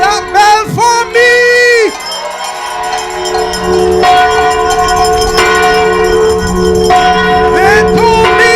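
A handbell clangs repeatedly at a political nomination rally at Westbury School in Bridgetown, loud and close, its ringing tones sustained over a background crowd.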